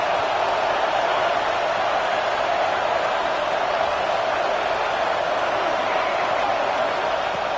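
Stadium crowd noise in the College Football 26 video game during a Washington vs Tennessee matchup: a dense, steady roar of a large crowd, loud and unbroken from start to finish.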